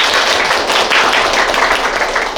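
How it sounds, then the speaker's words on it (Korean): Sustained audience applause fills a meeting room at a government AI and data administration cooperation gathering, a dense steady wash of many hands clapping loudly and evenly without pause. "박수 한번 부탁드립니다."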